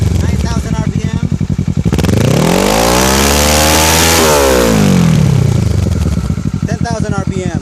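A 2013 Kawasaki Ninja 650 fitted with a Two Brothers full system exhaust revs hard at close range, the engine note sweeping up and back down in one loud, sustained pull, with a voice heard over it.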